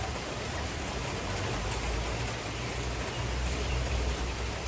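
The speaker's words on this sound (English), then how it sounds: "It's raining." Steady rain pours down in a dense, even hiss, with no breaks and no voices.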